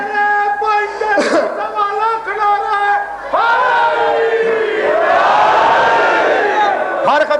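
A crowd at a religious gathering chants a slogan in loud, drawn-out unison calls, several rising and falling waves of voices following one another up close.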